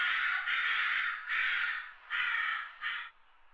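A crow caws five times in a game sound effect, loud, harsh calls in an uneven rhythm with brief gaps between them, alone with no talk.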